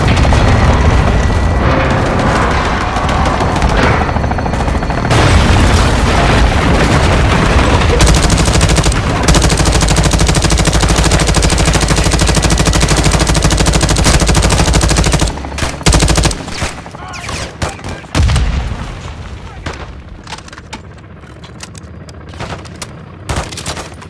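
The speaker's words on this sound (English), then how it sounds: "Ready for gun run, so Marcus." Sustained, loud aircraft gun run in Call of Duty MWII: dense strafing machine-gun fire and booming impacts roar continuously for about fifteen seconds, then break into scattered bursts and explosions as the barrage trails off.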